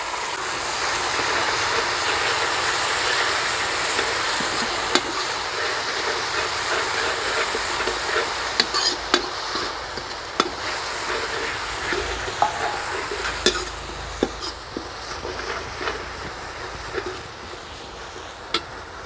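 Ginger, green chilli and tomato hit browned fried onion in a home kitchen pan, giving a steady broadband hiss of frying with scattered crackles and pops, fairly close and continuous, no talking.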